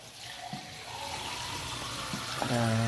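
Tap water runs steadily into a cooking pot for a native-chicken broth, a continuous splashing fill that rises in pitch toward the end as the pot fills, with a couple of faint knocks along the way.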